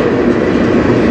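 A CN freight train passes close by on the Strathroy Sub, a loud continuous rumble of wheels on rail with no voices.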